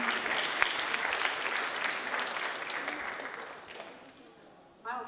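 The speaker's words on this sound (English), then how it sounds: "can we get one more huge round of applause for Shriya, Lakshmi, and Sunita" Enthusiastic audience applause fills the hall after a Kuchipudi dance performance, a dense steady clapping that gradually thins toward the end before a brief burst of voices.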